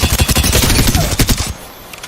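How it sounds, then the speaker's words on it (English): Rapid bursts of Vault SMG fire in Apex Legends ring out loud and close, a fast rattling stream of shots for about a second and a half before cutting off. "I'm also using the Vault SMG,"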